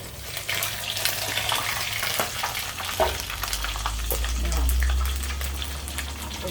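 Pork rinds hit hot oil and fry with a steady, loud crackling sizzle that swells as they are stirred, bubbling continuously throughout with a low hum beneath.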